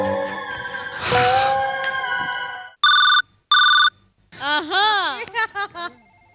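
A phone rings with two short, loud electronic bursts in the middle of a comedy sketch, set between stretches of lively talk and laughter.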